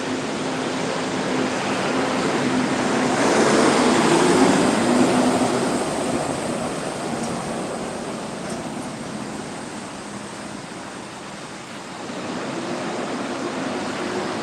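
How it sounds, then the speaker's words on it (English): A truck passes by, a broad loud rumble and road roar swelling to a peak and fading away, alone with no talk. "let the truck pass."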